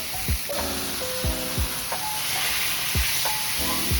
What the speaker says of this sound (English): Get a good hard sear on this beef.